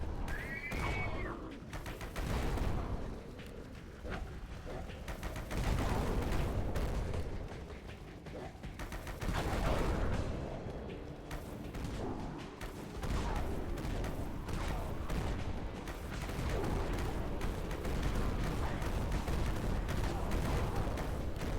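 Gunfire in the zombie survival game Dead Frontier, a character firing an explosive-damage weapon in steady, rapid bursts that run throughout at a fairly even, dense level.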